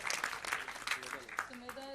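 Faint applause at a song launch event for the song's lyricist: a short burst of brisk, evenly spaced claps that soon thins out as a voice starts talking over it.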